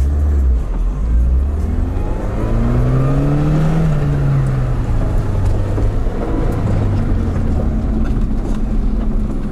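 Lada Niva engine stuck in a mud hole, revving hard and loud, the pitch climbing and falling as the throttle is worked in one sustained, close run.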